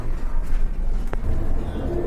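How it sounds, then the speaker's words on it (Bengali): Pigeons at a pigeon seller's in Kashimpur, Gazipur, cooing in low continuous murmurs close by, with a brief sharper sound partway through and no talking. "কবুতরগুলো আপনাদেরকে দেখাই"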